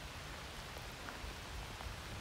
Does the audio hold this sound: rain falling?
yes